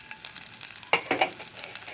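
Chopped chili goes into a pan of oil already frying to golden brown, giving a soft steady sizzle with a brief louder burst of spitting as it hits, along with light stirring clicks.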